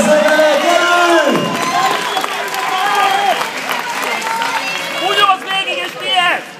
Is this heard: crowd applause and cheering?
yes